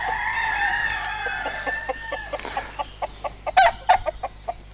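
A prize-winning Limousin fishing rooster, light rusty grey, gives a drawn-out crowing call, then a run of short, sharp clucks close by, growing louder toward the end.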